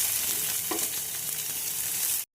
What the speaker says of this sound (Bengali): শুকনো লঙ্কা ফোড়ন দিলাম। লঙ্কাগুলো ভাজা ভাজা হয়ে গেছে।